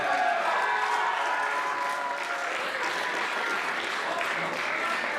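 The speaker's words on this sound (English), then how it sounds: "We're chanting my name, we're chanting Hollywood, that's incredible." A wrestling event crowd fills the hall with loud, sustained noise, applause and voices blending into a dense roar that may be a chant of the wrestler's name Hollywood, with no single voice standing out.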